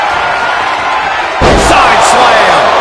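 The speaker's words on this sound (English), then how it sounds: "Side slam." A heavy side slam in a PS4 wrestling video game lands with a sudden loud thud midway, followed by a roaring arena crowd, with commentary voices running over the action.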